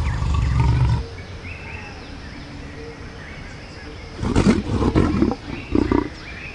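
A lion gives deep, rumbling roars, one near the start and a burst of grunting roars toward the end, with quieter outdoor ambience between.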